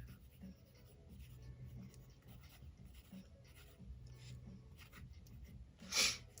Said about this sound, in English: Let me sketch. Let me warm up the hand. This first lines of the day.